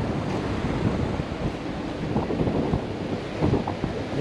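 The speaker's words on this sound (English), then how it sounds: "Most beautiful beach on Cancun." Surf washing onto a Cancun beach: a steady, full roar of breaking waves with gentle swells in loudness, mixed with gusty wind buffeting the microphone throughout.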